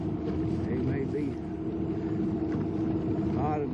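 A fishing boat idles slowly along a creek channel, its engine giving a steady low rumble and drone throughout, with someone talking over it.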